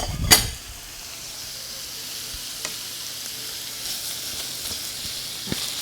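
Ground meat browns in a pan for Greek pastitsio, giving a continuous moderate sizzle with a sharp clatter at the start and occasional soft scraping taps as it is stirred.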